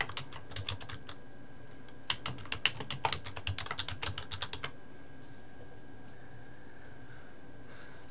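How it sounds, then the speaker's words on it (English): Keys clatter on a computer keyboard in a quick run of crisp taps, close and fairly quiet, which stops about halfway through and leaves a faint background hum. "we're going to type in layout and adjustments"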